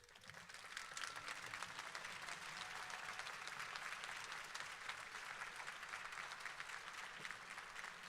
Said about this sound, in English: Let's give those special people in the audience a round of applause.